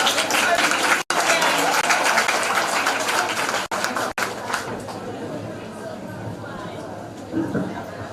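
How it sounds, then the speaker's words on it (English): Applause from an assembled audience at a primary school leaving ceremony, a dense continuous wash of clapping running for several seconds, broken by brief gaps and fading toward the end, with chatter mixed in. "give him a big round of applause"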